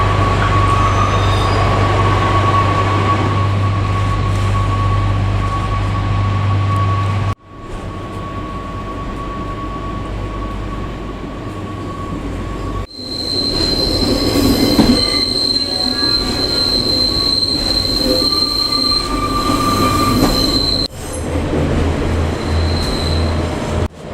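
A Pacer train, British Rail Class 142 or 143, rumbles steadily along the rails from Cardiff Queen Street toward Bargoed, with a loud high-pitched wheel squeal and a steady hum, close and continuous.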